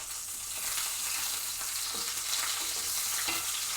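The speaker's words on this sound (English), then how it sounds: "frying some onions, because we're going to make a meat and potato pie" Sliced onions sizzling in a hot pan while a spatula moves them, a continuous bright hiss of frying with occasional soft scrapes, close and steady, no one speaking.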